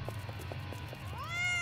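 A cat gives one rising, drawn-out meow near the end, quiet and indoors, after a stretch of faint soft ticking and low background hum.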